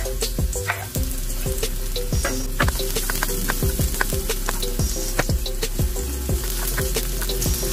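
Onion and garlic sautéing in a wok for pansit bihon, a constant close sizzle punctuated by regular sharp spatula scrapes and taps against the pan, with no talking.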